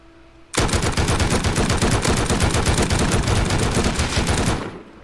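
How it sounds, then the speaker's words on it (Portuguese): M2 machine gun firing in the video game Rust, a loud, continuous rapid burst of shots lasting about four seconds, starting abruptly and cutting off with a short fade. "É legal tomar tiro de M2"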